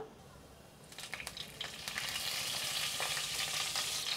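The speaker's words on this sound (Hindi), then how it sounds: "तेल अच्छे से गर्म हो गया उसमें डालेंगे आधा चम्मच ज़ीरा" Half a spoon of cumin seeds hits hot oil in a kadai on a gas stove: quiet at first, then a sharp, crackling sizzle that swells after a second and stays loud and close.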